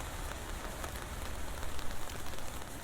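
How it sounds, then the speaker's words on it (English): Steady rain falling on surfaces in a city, a dense continuous hiss with scattered droplet patter, fairly close and even throughout, with no voices. "This city looks beautiful when it's raining."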